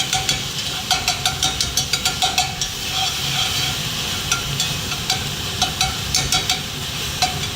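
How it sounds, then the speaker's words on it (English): Ground turkey cooking down in a hot pan, a steady close sizzle and hiss with quick runs of light scraping taps from stirring, fairly loud and without talk. "we're going to keep on cooking down our turkey now"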